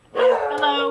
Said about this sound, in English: Those dogs are screaming bloody murder.